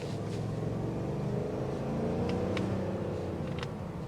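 A 2023 Chevrolet Tahoe accelerating, heard as a steady, moderately loud engine hum with rising tonal bands of the motor building under road noise and a few faint clicks.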